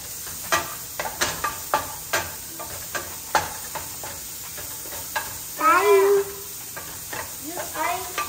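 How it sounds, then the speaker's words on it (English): Eggs with adobo sizzle steadily in a pan while a utensil scrapes and taps in a quick, irregular stirring rhythm close by, with a voice briefly heard over the frying. "Now we have to stir the adobo in."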